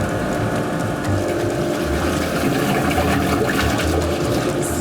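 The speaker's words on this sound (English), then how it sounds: "the disperser blade is spinning really fast and it makes a lot of noise" Paint disperser blade spinning fast in a mixing tank at a paint factory, a loud continuous churning roar with a steady mechanical hum and no pauses.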